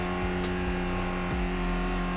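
Engine of a Honda Accord Type R in the racing game Gran Turismo 2, a loud steady drone with rhythmic gear-like pulses and a brief pitch dip partway, continuous and close with no talking.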